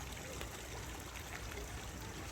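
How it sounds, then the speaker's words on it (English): Water trickles into a pool in a rock garden outdoors in spring, a soft, continuous, faint burble with no clear breaks. "listening to the water trickling in the pool on the rock garden is quite calming and pleasurable"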